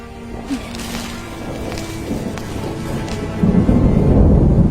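Thunder rumbles low and steady through the clip just before rain, swelling into a heavier, louder roll toward the end.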